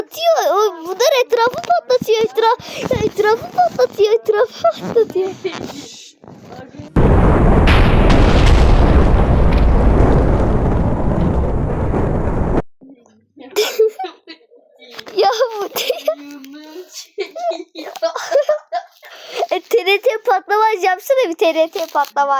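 Atom bomb explosions in a video game burst out as one loud, sustained roaring blast lasting about five seconds, set between stretches of excited child chatter.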